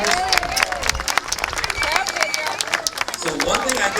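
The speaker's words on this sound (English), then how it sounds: "let's give a nice round of applause for our canine officers and their partners" A crowd claps for police canine officers and their dog partners at a National Night Out Against Crime event outdoors, scattered sharp claps mixed with a few voices and other noises.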